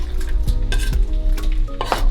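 Onions for egusi soup sauté in a pot, a steady close sizzling hiss broken by several scraping stirs of a utensil against the pot.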